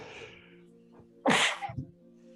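A single sharp sneeze, close and sudden, with a faint intake of breath before it and low background hum.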